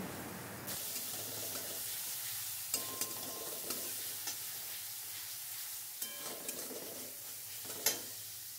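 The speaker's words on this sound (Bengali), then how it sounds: "এখন রসুন আর কাঁচা লঙ্কাটা ভালো করে পেঁয়াজের সাথে কষিয়ে নেব।" Garlic and green chili being sautéed with onion in a pan for a Bengali kochur loti and prawn curry: a steady sizzle and frying hiss with repeated scraping stirs and light clinks from the spatula, moderately close, no talking.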